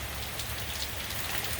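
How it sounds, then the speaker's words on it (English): Early morning spring rain falls steadily on surfaces in Joplin, Missouri, a continuous soft patter with a low background rumble and no voices. "Water's coming down, rain's coming down."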